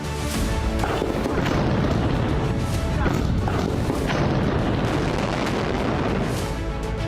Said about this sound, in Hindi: जिसके बाद तेज धमाका होता है और पूरी बिल्डिंग जमींदोज हो जाती है।